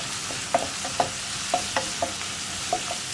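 Sliced onions sizzle steadily in a hot pan, with a spoon scraping and stirring through them in several distinct strokes, close and continuous without any voices.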